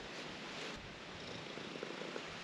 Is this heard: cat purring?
yes